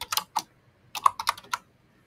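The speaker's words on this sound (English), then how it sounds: "let me write some text in this box" Crisp, close keystrokes on a computer keyboard as text is entered: a quick burst of three taps, a short pause, then a faster run of about five clicks in a quiet room.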